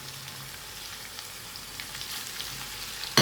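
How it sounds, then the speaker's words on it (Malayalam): Chopped onions and curry leaves fry in hot oil for a Kerala-style beef curry, a low continuous sizzle throughout with a sharp clunk at the very end. "നമുക്ക് ഇതിലോട്ട് നമ്മൾ അരിഞ്ഞു വെച്ചിരിക്കുന്ന സവോള ഇട്ട് കൊടുക്കാം"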